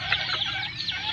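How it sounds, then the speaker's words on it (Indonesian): Chickens bred from a cross between an F2 jungle fowl decoy cock and a starling-coloured village hen cluck and chatter in a steady, overlapping flock sound, close and fairly loud, with no talking. "saya akan melihat hasil dari silangan ayam kampung yang berwarna jalak seperti ini"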